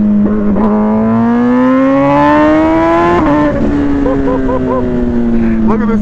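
A loud motorcycle exhaust revs up steadily and holds a high, raspy drone before dropping back and revving again, close and continuous for the whole stretch.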